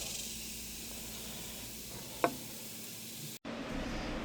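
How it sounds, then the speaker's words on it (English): A steady hiss of steaks sizzling on a hot grill over a fire runs throughout, with a brief click partway and a short cut near the end. "I can hear it sizzling"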